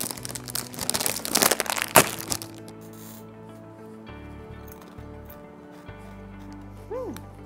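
Bingo salted potato chips are handled, producing a burst of close, loud crinkling and crunching of the packet and chips. Quieter rustling follows with a low background hum.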